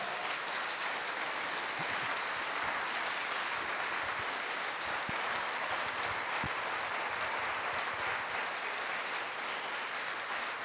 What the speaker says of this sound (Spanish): te voy a pedir que le des un fuerte, pero bien fuerte aplauso al Señor